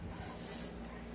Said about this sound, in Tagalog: Press the valve, then spray.